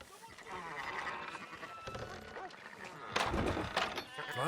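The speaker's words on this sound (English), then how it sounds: "Fine sheep." Sheep bleating in the video game Red Dead Redemption 2, wavering cries mixed with other livestock noise and a muffled voice, moderately loud and busy throughout.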